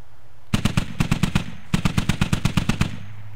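Bursts of .50 caliber machine gun fire in the Squad video game, several rapid rhythmic volleys of loud, close heavy gunshots separated by short pauses, with no talking.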